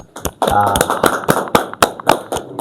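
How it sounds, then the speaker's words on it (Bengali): A small group of four people claps hands together in a classroom-style setting, giving sharp, uneven slaps in a short burst with voices talking over it. "একটা হাততালি দিই আমরা নিজেরা এই চারজন মিলে একটা হাততালি দিই"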